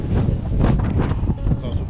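Strong wind buffets the microphone on a cliff by the sea off Eleuthera in the Bahamas, a loud, gusty low roar with rises and dips that fills the whole stretch.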